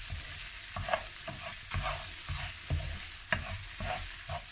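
Fried rice tossed in a pan over lowered heat, with rhythmic scraping and clunking stir strokes about every half second over a soft sizzle, close and fairly quiet, no voices.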